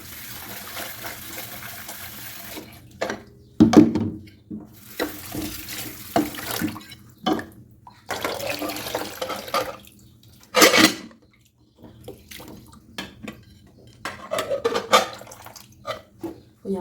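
Water running from a tap into a cooking pot holding potatoes, coming in several separate bursts of gushing and splashing with quieter gaps between, close to the microphone.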